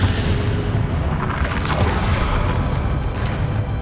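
A spell blast from the Confringo curse in Hogwarts Legacy gives a loud, dense, sustained roar of rumbling explosive noise that fills the whole stretch without pause.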